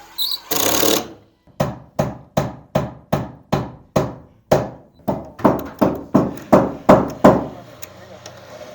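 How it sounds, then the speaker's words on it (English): A power driver sets screws into plastic window trim in a corner, giving a brief loud burst, then a long run of short, evenly spaced whirring pulses close by, each one stopping sharply. "Go ahead and screw in a screw on the plastic over here in the corner and over there."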